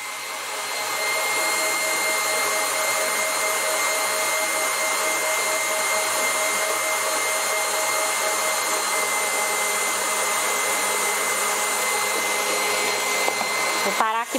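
Stand mixer beating cake batter for a rolled cake, a loud, steady motor whir that runs without a break, then clatters and stops near the end.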